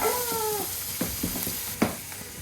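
Onions and garlic dropped into a hot pan give a brief clatter and a soft, close sizzle, with a few light stirring knocks and no talking.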